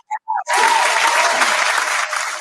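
Applause on a podcast welcoming a guest: after two short spoken syllables, loud, close, bright clapping swells suddenly and holds steady for about two seconds.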